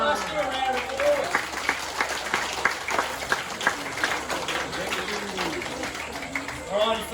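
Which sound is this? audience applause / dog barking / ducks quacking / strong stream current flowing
audience applause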